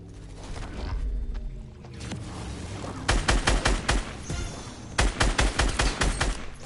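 Video game gunfight with a minigun: a steady mechanical whir gives way to two loud, rapid bursts of automatic fire, each a fast rattling string of shots, with no talk.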